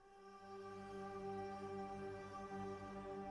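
Sustained synth pad from the chorus of a country-style beat, a steady layered chord tone holding evenly and softly for the whole stretch, with no voices.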